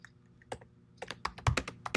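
Keys tapped on a computer keyboard, a quick uneven burst of close clicks that grows denser toward the end, with no voices.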